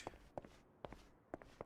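Character footsteps in Yakuza Kiwami 2, four distinct soft steps spaced about half a second apart, heard alone against an otherwise silent game scene.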